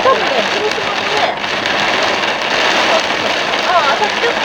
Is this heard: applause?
no